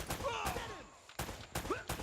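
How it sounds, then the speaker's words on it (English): An empty AK rifle dry-fires in the video game Uncharted: Drake's Fortune, giving several sharp, loud clicks and bangs in an irregular rhythm, with faint tonal game sounds between them. "As you can hear right now, he's trying to shoot the empty AK."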